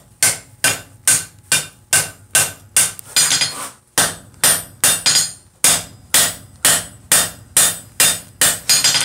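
Hammer blows forging steel hanging over the edge of an anvil while thinning a section for a vice, in a live forging demonstration; a steady series of sharp, loud ringing strikes at a regular rhythm, with a brief denser flurry in the middle.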